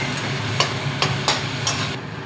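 Boiled biulir (urad) dal goes into a pan of fried spices with ginger paste and turmeric; a steady soft sizzle runs under four or five sharp spoon-against-pan knocks spaced about half a second apart.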